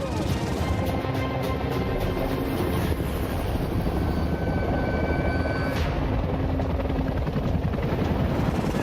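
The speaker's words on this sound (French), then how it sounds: "Cet hélicoptère n'a pas le droit d'aller plus loin." Helicopter rotor throb and turbine whine, loud and continuous throughout, with a voice speaking over it.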